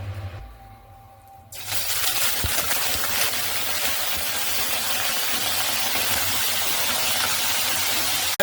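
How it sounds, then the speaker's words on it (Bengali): Drained chicken pieces are dropped into hot oil, setting off a sudden loud, steady sizzling hiss that continues, close and unbroken, after a quieter start. "চিকেনটা আমি তেলের মধ্যে অ্যাড করে দেব"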